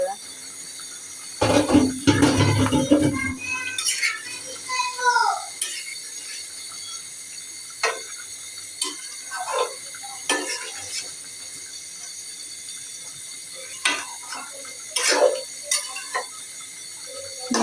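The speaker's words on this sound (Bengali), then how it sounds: "মাংসটা নাড়া দিয়ে দিব বন্ধুরা।" Meat curry is stirred in a pot, with a sizzling burst early on followed by scattered spoon scrapes and clinks against the pot, and a voice speaking in between.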